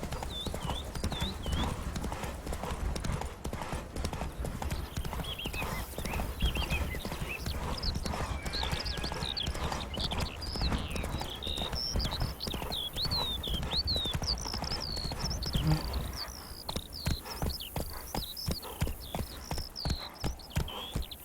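A horse in The Witcher 3 plods along with a continuous, even clip-clop of hooves that grows crisper near the end, over faint outdoor ambience and chirping.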